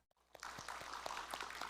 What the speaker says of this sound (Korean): 우리 하나님께 감사하면서 또 서로를 격려하면서 우리 박수하겠습니다